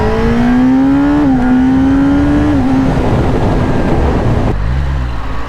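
A Kawasaki ZX10R superbike accelerates hard, its engine note rising through the gears with brief dips at shifts before settling into loud, steady wind and road roar.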